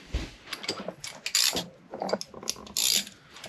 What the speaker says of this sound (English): I've got the wrench I need